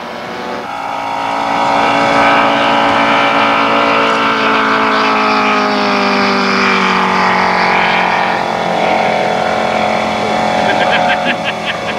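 A vintage model airplane's Seidel radial engine drones loudly as it flies a low pass, pitch shifting with its movement, a voice speaking over the engine.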